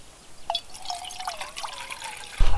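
Water trickles and splashes into a cooking pot holding apple and scallop on a camping stove outdoors, a short close pour that ends in a louder burst.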